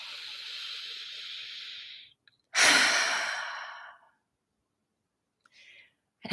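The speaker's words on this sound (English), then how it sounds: "And let's take a breath." A person takes a slow, deep breath, a long airy exhale after a quiet pause, followed by a stronger inhale-exhale, then a short faint breath near the end, close and alone with no talk.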